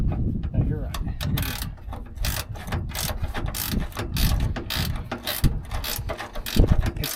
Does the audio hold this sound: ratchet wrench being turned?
yes